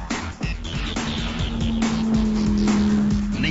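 A Lamborghini accelerates hard on a track, its engine note rising and holding loud and close throughout a quick lap, with tire noise beneath and no talking.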